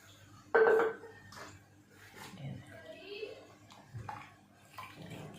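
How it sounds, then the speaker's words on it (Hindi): A short burst of water splashes into a pot of beef kofta curry, then quieter clinks and shuffling follow beneath someone speaking. "और हमने ये पानी डाल, जितना आपने शोरबा रखना है।"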